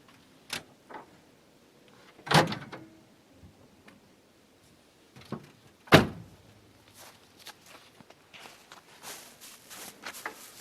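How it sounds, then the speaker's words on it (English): A Ford Granada's car door is worked open: scattered clicks, shuffling and two sharp metallic knocks, with a cluster of faint rattles and taps toward the end, heard fairly close in a quiet setting. "Let me see if I can pop that door open"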